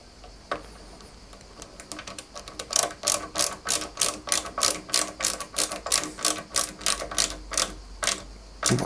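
Screw being driven into a Lancia 037 scale model kit, a rapid run of dry ratcheting clicks that starts sparse and settles into a steady, close, even rhythm with no talk.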